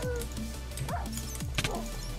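Minecraft dogs scuffling in a video game fight, short yips and barks rising over a busy background of game sound and music, close and fairly loud across a couple of seconds.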